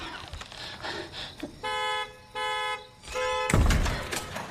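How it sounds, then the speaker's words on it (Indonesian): A car alarm set off from a kitchen with the key fob sounds in repeated loud, steady electronic bursts, a few seconds of alarm tone broken by short gaps, with another loud noise at the end. "dia ambil kunci mobil di tas dan menekan alarm mobil dari dapur"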